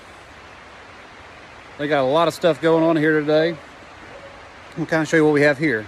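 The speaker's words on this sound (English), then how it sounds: "I'm going to apologize for the background noise. It is raining hard here today." Heavy rain pours down on a flower farm during ranunculus planting, a steady loud hiss throughout, with a person talking over it in two bursts.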